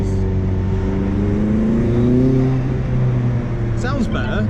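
McLaren 600LT engine and top-exit exhaust droning steadily up close with shifting tonal harmonics, a voice talking over it throughout.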